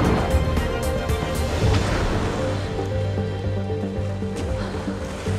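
Ocean waves from a surfing film, a steady loud wash of surf with rumbling low water noise that fills the whole clip without a break.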